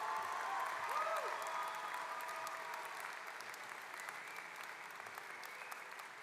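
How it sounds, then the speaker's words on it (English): Sustained applause from a large audience fills a high school graduation ceremony, steady and dense at first, then slowly thinning and fading. "Let's get one last round of applause."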